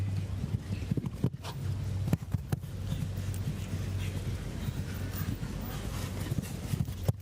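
Hoofbeats of a show-jumping horse in a Grand Prix arena thud in an uneven rhythm at moderate distance, with a few sharper knocks over a low, steady ambient hum and faint crowd noise.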